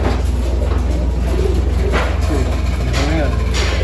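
Breeder pigeons in a loft colony cooing softly over a steady low engine-like hum, with a few faint coos scattered across the stretch and speech-like sounds in the background.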